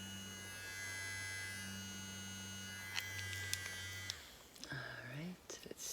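Electric makeup brush cleaner spinning brushes dry, giving a steady close motor hum with a high whine that cuts off partway through, followed by softer scattered handling sounds.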